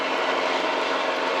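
Mooney light airplane engine at full throttle on the takeoff roll, a steady, loud, broadband propeller roar that fills the whole stretch without pause or talk.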